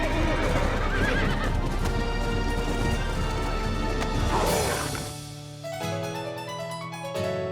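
A unicorn in the video game Red Dead Redemption: Undead Nightmare neighs loudly over galloping clip-clop hoofbeats, then a bright musical chime and sustained tones take over as the sounds fade.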